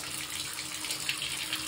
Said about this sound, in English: Mommy's about to turn on the shower